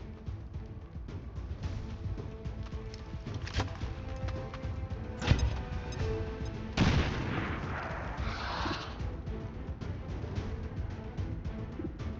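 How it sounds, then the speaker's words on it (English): A grenade detonates in XCOM 2, one sharp blast rising out of a low steady rumble of gunfire and impacts, then a second heavier crash with a rushing debris tail, all without voices. "Throwing grenade!"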